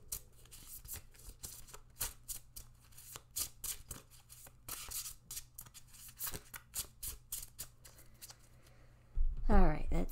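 A deck of tarot cards is shuffled with a rapid run of crisp, papery riffles and flicks that ends in a louder rustle, with a person speaking nearby.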